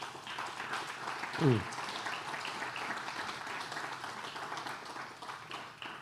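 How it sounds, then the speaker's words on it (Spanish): Church congregation applauding during a worship service, a steady dense wash of clapping with a brief louder burst near the middle, moderately distant and continuous throughout. "Dale un aplauso al Señor. Vamos, iglesia."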